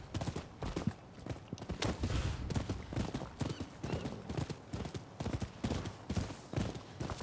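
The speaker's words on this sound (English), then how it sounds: "Alright, horse, come on, move faster." Rapid clip-clop of a horse galloping in the game Rise of the Ronin, steady and close, with a brief whinny mixed into the busy rhythmic pounding.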